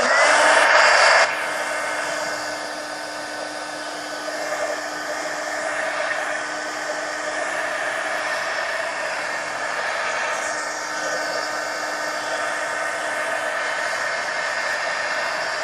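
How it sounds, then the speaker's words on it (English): Heat gun blowing steadily to dry paint on a mixed-media magazine journal page, a loud close whooshing roar that starts with a brief louder burst and then holds an even, continuous hiss with no talk. "let me hit this with the heat gun so that I can put another coat on"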